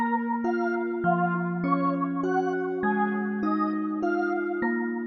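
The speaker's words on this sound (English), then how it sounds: "And here's the whole synth." A bright synthesizer plays a steady melody of sustained notes changing about every half second, with layered chord tones and no voices.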